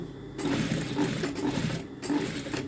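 A sewing machine runs along a stitching line in a steady close whir, with two brief pauses as the seam is guided.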